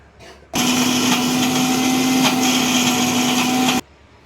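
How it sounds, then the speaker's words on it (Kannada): An electric mixer grinder blends cumin, turmeric powder and salt into a fine paste. Its loud, steady whirring motor starts abruptly, runs for about three seconds and cuts off sharply. "ಇಷ್ಟೆಲ್ಲ ಹಾಕಿ ಸಣ್ಣಗೆ ಮಿಕ್ಸಿ ಮಾಡೋಣ."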